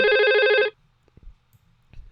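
An IP desk phone on a networked line rings loudly with a steady electronic tone for under a second, then stops. Faint clicks and room noise follow.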